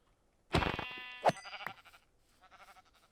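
Goat bleating in Minecraft 1.17, a single loud bleat followed by a few shorter, quieter bleating calls, heard alone without talk.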